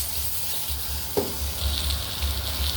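Sliced pork belly sizzles in a hot pan as its fat renders out, a steady close crackle with a brief stirring knock partway through, and no talk.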